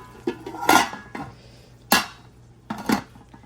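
A lid goes onto a cooking pot of chicken biryani, heard as three sharp metallic clanks spaced about a second apart, close and clear against a quiet low hum.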